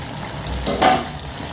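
Cashew tomato curry simmering over medium heat in a pan, a steady close sizzle with two brief louder scraping stirs near the middle, no talk.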